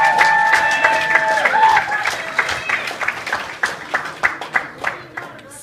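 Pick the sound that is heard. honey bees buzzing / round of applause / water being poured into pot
round of applause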